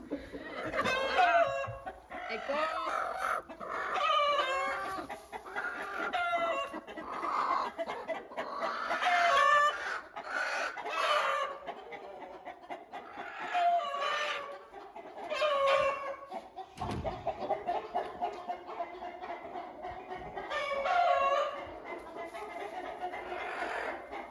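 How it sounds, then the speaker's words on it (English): A broody hen clucks and grumbles in repeated bursts as a hand reaches to touch her, with the close, agitated calls rising and falling throughout on an English countryside smallholding. "So when Grace goes to touch you, she's going to make a noise. She already is"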